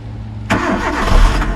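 Kia Rio car with 72,000 miles being started at a UK auction: a brief crank catches abruptly into a loud, steady engine idle with low rumble, close by.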